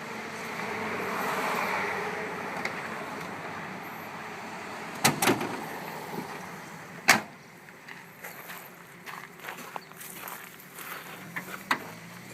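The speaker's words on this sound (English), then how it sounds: "We'll pop the hood." The hood of a 1988 GMC Sierra 2500 4x4 pickup is opened, heard as two sharp, loud metallic clunks a couple of seconds apart, followed by quieter rattles and handling noises close by, with no talk.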